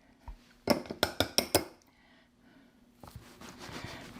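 Five sharp, evenly spaced knocks of a cutter pressing through angel biscuit dough onto a board, each a crisp clack, followed by quieter clinks and faint handling noise.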